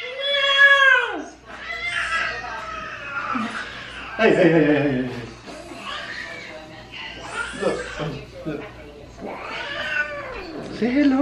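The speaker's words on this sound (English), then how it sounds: "Cat!" A pet cat meows repeatedly and loudly up close, with drawn-out, wavering caterwauls spread across the stretch, while a person briefly speaks and chuckles alongside.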